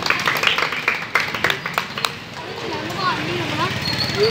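Children clapping at a street monkey show, quick scattered claps in the first half that fade out, followed by a voice speaking and chanting over the scene.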